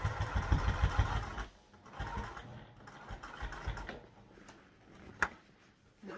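A sewing machine runs in bursts as it stitches fabric for a sew-along garment, with a steady mechanical whir at the start, then quieter intermittent runs and handling clicks, plus one sharp click near the end. No voices.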